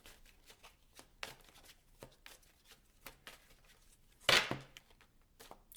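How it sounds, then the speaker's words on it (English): Tarot cards are shuffled by hand in a run of quick, soft riffles and papery slaps, with one louder burst near the end, close and clear in a quiet room. "so we are going to keep shuffling"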